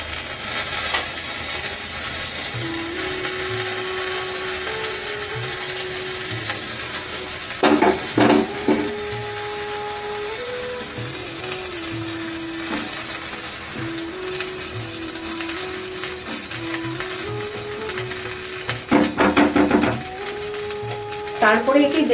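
Prawn gravy with the prawns is mixed into pulao rice in a pan, with a steady low cooking hiss and two short bursts of spatula scraping under a continuous tonal background.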